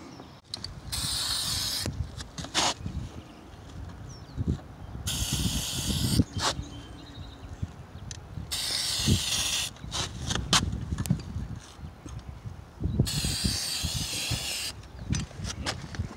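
Spray painting new aluminum roof flashing red beside a tile pan and fireplace on a roof, heard as loud bursts of aerosol hiss in several separate passes, each lasting a second or more, over a steady low background rumble.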